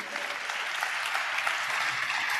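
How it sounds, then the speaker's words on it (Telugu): A church congregation claps steadily through a Telugu Christian sermon, dense continuous applause from many hands filling the hall at moderate volume, with no voice rising above it. "చప్పట్లు కొడుతూ హల్లెలూయా"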